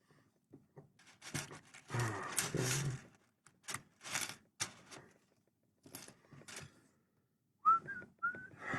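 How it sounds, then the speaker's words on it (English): A person whistles a short melodic tune, the clear tones arriving near the end after stretches of handling clatter and faint background noise, with chainmail being worked nearby. "I won't whistle while I'm streaming"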